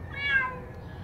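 A cat stuck in an emptied swimming pool gives a single short meow, moderately close and fairly quiet.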